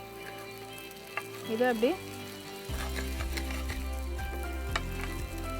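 Curry leaf idli tossed and stirred in a hot pan gives a steady sizzle and frying crackle, with scraping and stirring noises. A short spoken phrase cuts in near the start.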